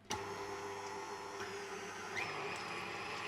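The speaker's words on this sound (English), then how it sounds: "So we've just set the KitchenAid at 4." KitchenAid stand mixer whipping egg whites at speed 4, a steady motor whir with a faint rhythmic whisking swish, continuous and close throughout without any talk.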